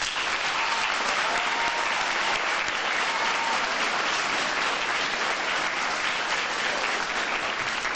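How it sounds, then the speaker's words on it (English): A graduation audience at the FMS promotion ceremony for the Class of 2015 gives sustained, dense applause, an even roar of many hands clapping at steady loudness for the whole stretch. "right now, I think you owe the people sitting behind you a round of applause"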